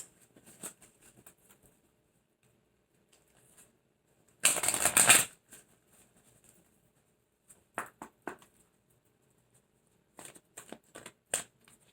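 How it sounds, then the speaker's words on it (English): Tarot cards being shuffled and drawn, a loud riffling burst of shuffling followed by scattered short papery flicks and snaps as cards are handled and laid down, close and quiet between bursts. "I do want to draw one more card."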